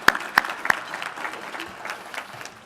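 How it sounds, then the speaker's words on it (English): A conference audience applauds a co-leader, opening with a few sharp, loud claps close by before settling into a lighter, scattered clapping that fades off. "A round of applause for John Taylor"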